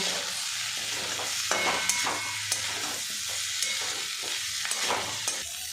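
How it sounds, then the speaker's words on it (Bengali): Flat beans and potatoes frying in their own oil with green chillies, stirred repeatedly so a constant close sizzle is broken by rhythmic scraping and clacking strokes. "এখন দেখুন সিম আলু চারিদিক থেকে কিন্তু তেল ছেড়ে দিয়েছে, এই তেলেই কিন্তু ভাজা হয়ে যাবে"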